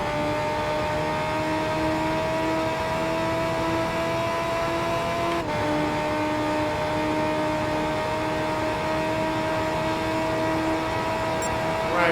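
A race car engine in Gran Turismo 5 holds a loud, sustained high-revving whine, steady for several seconds, then dips sharply at a gear change before climbing and droning on again.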